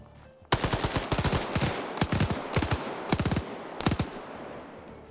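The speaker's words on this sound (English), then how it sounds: "fire at that soldier!" Gunfire aimed at a soldier in a multiplayer military video game, several sharp rapid bursts of automatic fire cracking in quick succession, close and loud, with brief pauses between volleys.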